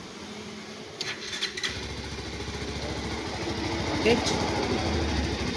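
An R180 engine with a freshly replaced throttle cable cranks and catches, settling into a low, steady pulsing rumble that grows slightly louder toward the end, with a brief spoken word near the start.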